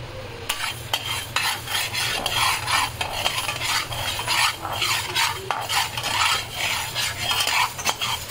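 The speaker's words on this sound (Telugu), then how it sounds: "ఆవాలు కొంచెం చిట్పెట్లాడితే చాలండి, మరీ ఎక్కువగా వేపితే చేదు వచ్చేస్తుంది." Mustard seeds fry and splutter in a pan, with steady crackling and sizzling under the clink and scrape of a spoon stirring against metal, continuous and close.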